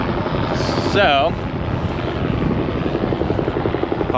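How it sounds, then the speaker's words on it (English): Loud helicopter passing close overhead, a heavy rhythmic rotor thump dominating throughout, with brief whistling tones early on. "helicopter flying right over me."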